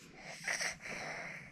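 A baby gives a short, breathy yawn up close, a soft airy exhale that rises briefly in the middle and trails off.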